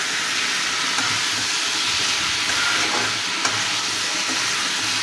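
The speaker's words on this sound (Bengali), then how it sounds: "এবার এগুলো নেড়ে চেড়ে খুব ভালোভাবে কষিয়ে নেব" Shrimp and pumpkin are stirred and fried in a pan, producing a loud, continuous sizzle with occasional scraping from the stirring.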